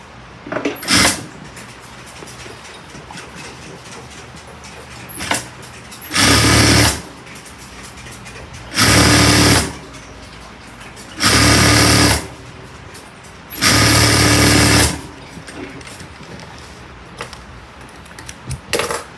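An electric sewing machine running a long straight seam in a suit jacket's front lining: five loud, close bursts of rapid stitching, each one or two seconds long, separated by quiet pauses with small handling clicks and fabric shifts.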